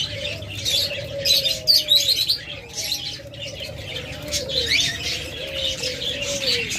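Caged budgerigars and cockatiels keep up a steady, busy chatter of high chirps and tweets, many birds overlapping close by with lower warbling calls running underneath, and no voices.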